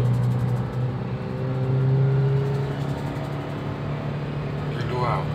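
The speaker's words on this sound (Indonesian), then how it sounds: "Kita motor gigi 2 langsung injek gas" A 2015 Toyota Avanza pulls hard in second gear, its engine giving a steady, moderately loud hum and drone from inside the cabin while people talk over it.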